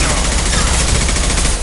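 Dense, loud squad gunfire in a Mass Effect 2 battle, continuous rapid automatic fire filling the whole moment without pause.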